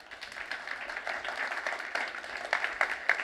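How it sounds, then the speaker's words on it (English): Scattered audience applause at a film producers' pitching event, fairly faint and thin, with a few louder claps near the end. "Applause, please."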